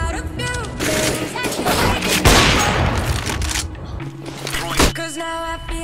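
Grenade blast in a first-person shooter game, a loud broadband boom swelling and decaying over a couple of seconds amid scattered gunfire, followed by a second sharp thump.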